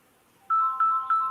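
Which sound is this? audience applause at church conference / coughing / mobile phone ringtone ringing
mobile phone ringtone ringing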